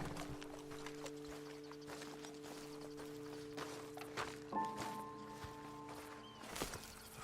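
Horses walk at a measured pace in the Red Dead Redemption 2 video game, with soft repeated hoof clops beneath steady tonal game ambience and music, moderately close.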